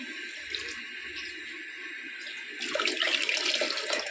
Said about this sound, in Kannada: ಇವಾಗ ನೀರು ಹಾಕ್ಬೋದು